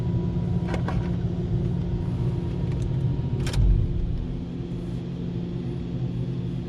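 A supercharged 2012 Shelby GT500 with a 2.8 L twin-screw on a test run, a steady heavy engine drone with a few sharp clanks and a thump partway through.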